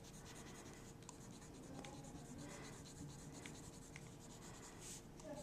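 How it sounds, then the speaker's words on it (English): Colour pencil shading lightly over paper with a steady, soft scratchy rubbing that carries on close and quiet for several seconds, with no one speaking. "I just went in with some color pencil and just took a light coat"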